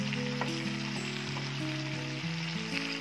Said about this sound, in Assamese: এতিয়া লৰাই দিম ভালকৈ। এয়া এইখিনি লৰাই দিলোঁ ভালকৈ।